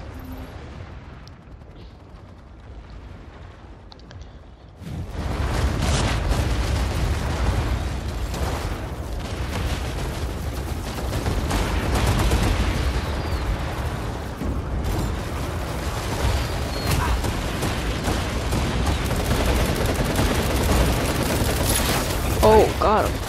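Rifle gunfire in the sci-fi shooter game Planetside 2: after a quieter opening, dense, continuous loud bursts of shots and explosions erupt, sustained through the rest of the battle.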